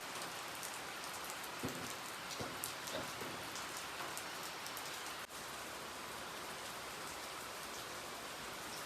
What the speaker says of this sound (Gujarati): ઝરમર ઝરમર વરસાદ શરૂ છે